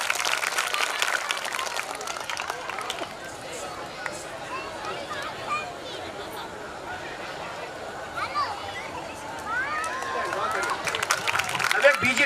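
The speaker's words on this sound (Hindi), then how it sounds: "एक बार ताली।" Audience at a family community gathering clapping continuously, a dense wash of applause from a crowd with voices and chatter mixed in, steady and fairly loud throughout.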